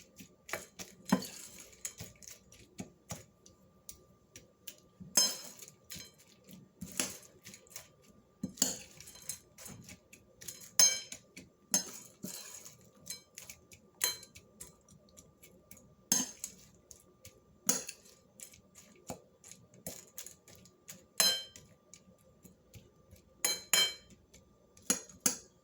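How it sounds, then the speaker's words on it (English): A spoon scraping and clinking against a bowl while stirring air-fried Pakistani style corn, sharp, distinct metallic taps repeating at irregular intervals against near silence. "So just take that and mix it like this. Mix it all around."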